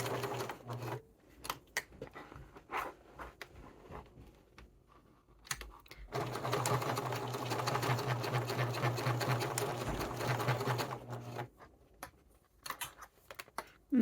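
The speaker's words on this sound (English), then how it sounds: "I'm going to go right on top of my previous top stitch." A sewing machine top stitches over a previous seam on a satchel, running in a steady whirring burst of several seconds between stretches of handling clicks and quiet, with no speech.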